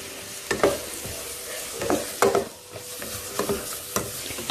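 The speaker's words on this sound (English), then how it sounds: "And then mix it all up nicely." Minced beef curry with onions being stirred in a pan, with several distinct scraping strokes over a low, steady sizzle and no talking.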